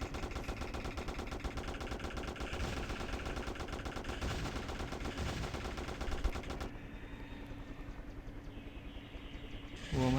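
Rapid gunfire in the video game Vegas Crime Simulator, fought against robots with a helicopter involved, rattles in dense rhythmic bursts for several seconds, then drops to a quieter mechanical hum.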